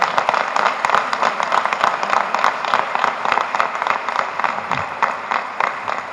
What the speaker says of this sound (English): A bigger applause, then they'll come here.